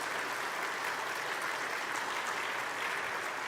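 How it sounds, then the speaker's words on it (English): Sustained applause from an audience at a church-style gathering, a dense, even wash of many hands clapping at steady loudness throughout with no talk on top. "Let's give Matt a round of applause."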